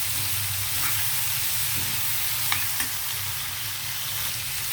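Curry leaves and green chillies fry in a pan with a steady, close sizzling hiss, while a spoon stirs them with a few sharp scraping clicks. No one speaks.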